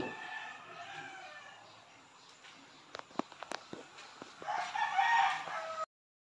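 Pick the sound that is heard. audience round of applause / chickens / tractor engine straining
chickens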